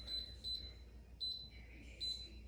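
A Pampered Chef Quick Cooker electric pressure cooker gives a series of four short, high-pitched button beeps in an uneven rhythm, with one lower tone among them, all fairly quiet in a calm kitchen.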